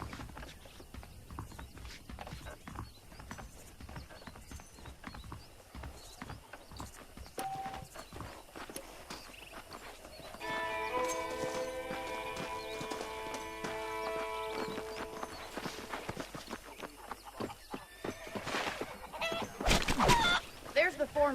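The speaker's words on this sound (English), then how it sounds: "The horses are saddled up over here." Horses' hooves clip-clop at a steady walking rhythm in the Xbox 360 game Red Dead Redemption, with chickens clucking nearby and someone talking over the hoofbeats.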